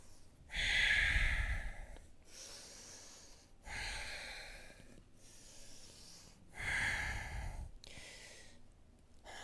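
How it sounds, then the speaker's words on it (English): Ujjayi breathing through the nose during a yoga class: three slow, audible breath cycles, each a soft hissing, ocean-like rush with quieter pauses between, close and alone. "Stay with the breath. Keep the nose breath. Ujjayi."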